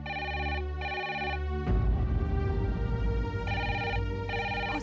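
A telephone bell rings loudly in repeated bursts, two rings, a pause filled with low background sound, then two more rings, heard alone without any talking in a domestic drama scene.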